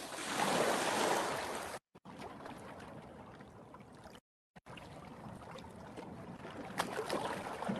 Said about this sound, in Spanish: Y el sonido del agua.